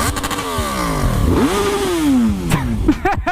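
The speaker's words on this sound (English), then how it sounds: "I hit the rev limiter on this. It's a Honda, guys." Honda motorcycle revved hard up to the rev limiter: engine pitch climbing and falling in sweeping surges, bouncing against the limiter with a stuttering buzz, loud and close, ending in sharp crackling blips.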